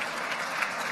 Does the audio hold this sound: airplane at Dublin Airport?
no